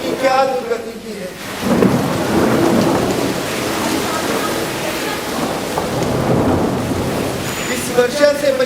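A theatre sound effect of heavy rain pours steadily while thunder rumbles and rolls through the middle, loud and continuous, with brief speech at the start and end.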